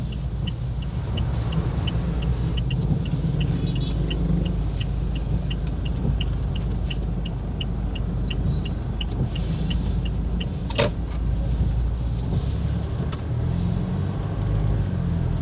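A car on a main road making a U-turn, a steady interior engine and road drone with a rhythmic ticking like a turn signal and a brief mid-clip knock, no voices.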